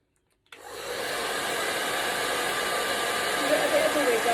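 A hair dryer switches on abruptly and blows steadily as hair is blow-dried, a loud, even, close whooshing roar that holds for several seconds.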